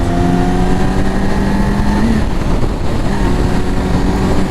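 A 2020 Yamaha R6 sport bike roars loudly at close range under heavy wind buffeting, its engine pitch climbing, breaking at a gear change and climbing again while accelerating.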